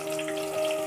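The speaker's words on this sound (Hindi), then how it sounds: "अब हम इसमें डालेंगे हमारा कटा हुआ प्याज" Chopped onion dropped into hot oil for a chicken green masala sets off a steady, bright sizzle with no talking, a continuous hiss that holds evenly loud throughout.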